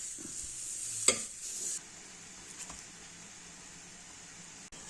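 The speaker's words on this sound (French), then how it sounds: "J'ai mis de l'huile à chauffer et je viens déposer la pâte." Vegan squash batter sizzling in hot oil in a classic frying pan, a faint steady hiss with a brief louder spatter as the batter goes in.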